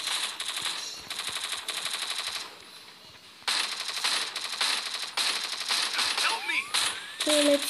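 Video game gunfire in rapid automatic bursts, crisp and close, pausing briefly before resuming, with a voice talking over parts of it.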